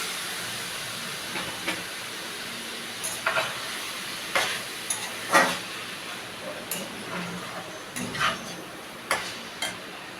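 Boiled banana flower hits a pan of frying spices for a Bengali prawn ghonto, giving a steady oily sizzle and hiss broken by scattered scrapes and taps of a stirring spatula, with no talking.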